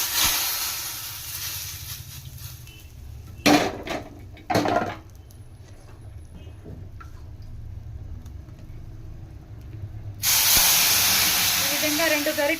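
Hot tempering (popu) tipped from a kadai into tomato tamarind rasam bursts into a loud, close, sustained hiss near the end, after a couple of sharp knocks and a quiet stretch.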